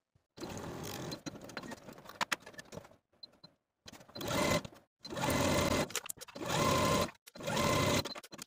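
A sewing machine stitches a dress side seam with a regular presser foot, running in several bursts of steady rapid whirring separated by short pauses, close and clear with no talking.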